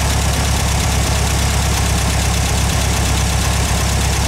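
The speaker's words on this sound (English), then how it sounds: "you hear that it does increase the idle speed, but it's going to idle too fast" Volkswagen engine fitted with a Solex 34 PICT-3 carburetor idles fast and steady, a loud continuous mechanical drone with no talking.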